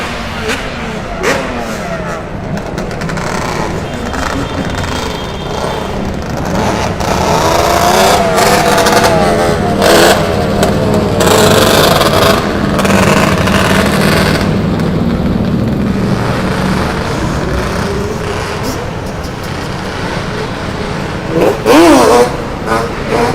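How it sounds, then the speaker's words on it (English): Motorcycles rev and roar past on a busy New York City street on a holiday evening over Memorial Day weekend, with engines swelling and fading among steady nearby car traffic and distant voices. "I think we have more of the bikers coming through."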